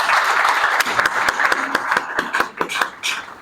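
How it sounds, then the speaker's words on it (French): Applause from an audience at a civil society press conference, a dense patter of clapping with sharp individual claps standing out, steady and fairly loud throughout. "Est-ce qu'on peut les applaudir?"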